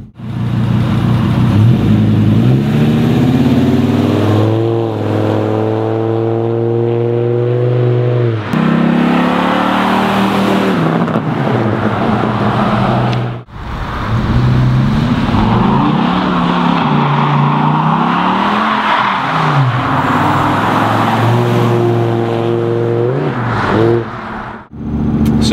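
A Dodge Ram SRT-10 pickup with a V10 engine drives and accelerates hard, its loud, close engine note rising in pitch through repeated gear-change sweeps, briefly dipping around shift points, with no talk.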